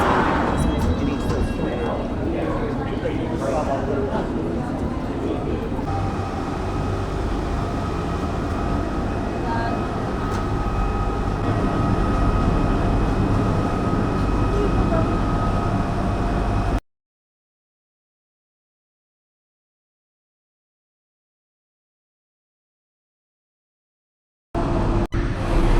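Ride on a London Underground Central line train approaching West Ruislip: loud continuous rumble and wheel roar with squealing tones, then abrupt silence for several seconds before the noise returns.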